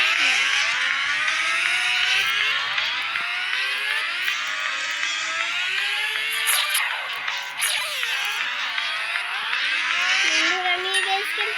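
Several car engines whine and rev in a racing video game, a steady close drone of rising and falling pitches that sweep up as the cars accelerate, with a person talking over them at times.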